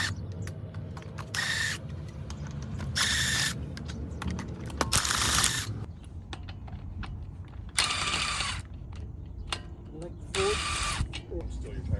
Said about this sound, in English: 22mm socket for lug nuts.